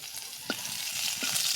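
Chopped onions frying in hot oil for a banana curry, a continuous bright sizzle with two brief stirring scrapes before it cuts off abruptly.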